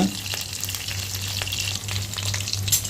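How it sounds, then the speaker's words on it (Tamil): Onions sauté in a pan for Tamil dried-fish (karuvadu) kulambu, frying to golden brown: a steady, close sizzle with soft crackles and occasional stirring scrapes, continuous throughout and with no talking. "வெங்காயம் நல்லா பொன்னிறமாக வரணும், நல்லா சிகப்பாக நல்லா பொன்னிறமாக வரணும். அது வரைக்கும் நல்லா வதக்கிக்கோங்க"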